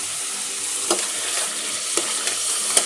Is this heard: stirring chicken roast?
yes